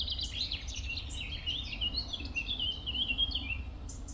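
Small birds chirp and trill repeatedly beside a still canal, bright twittering calls in quick succession over a faint low ambient hum, with no road noise or voices.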